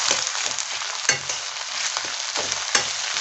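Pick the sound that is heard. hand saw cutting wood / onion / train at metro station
onion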